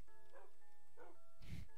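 A wolf dog in a Minecraft adventure map gives three short, soft yips, the last one a slightly louder, deeper bark, faint against a quiet background hum.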